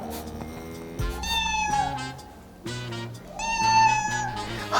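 A person imitates a cat, giving two drawn-out, whiny meows with a pause between them, loud and close.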